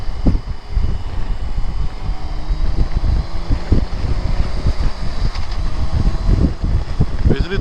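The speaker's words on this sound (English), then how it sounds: "It's a little bit windy" Steady outdoor wind by the Murrumbidgee River near Canberra buffeting the microphone, a constant low rumble with gusty swells throughout, no voices.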